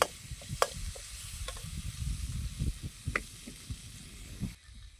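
Tomatoes sauté in a pan with a steady, soft sizzle, broken by occasional scraping stirs and clicks against the pan.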